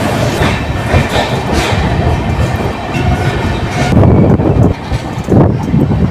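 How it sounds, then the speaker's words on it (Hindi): A Siliguri–Katihar Intercity Express pulls out of Siliguri Junction in West Bengal, with a steady, loud rumble of rail running and rolling wheel clatter heard from inside the coach, plus some wind buffeting. "फाइनली 5 मिनट आउट के बाद हमारी ट्रेन का डिपार्चर हो चुका वेस्ट बंगाल के सिल्लीगुड़ी जंक्शन रेलवे स्टेशन से।"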